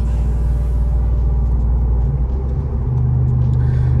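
Loud, steady low rumble of a Ford Tremor pickup engine braking itself while towing a trailer downhill, a deep droning hum with a slight shift in pitch midway.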